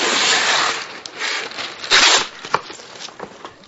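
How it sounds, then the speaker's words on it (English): Wax paper pulled out and handled for pressing leaves, giving a steady crinkly rustle that runs throughout, with a few sharper crackles and tearing scrapes near the middle and end. "we're going to just get a piece of wax paper out"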